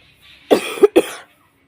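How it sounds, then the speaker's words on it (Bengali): A woman coughs several times in a quick burst, close and loud, against near silence. "কাশিটা আটকাতে পারলাম না একবার কেসেই নিলাম"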